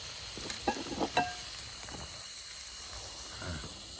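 Soft sizzling of pork on a hot tabletop grill plate, with a few sharp clicks and clatters of utensils near the start.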